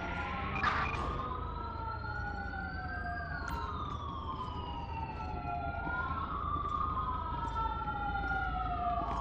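Wailing and yelping emergency siren of an ambulance in the police video game LSPDFR, several overlapping rising and falling tones sounding steadily and fairly clearly without talk.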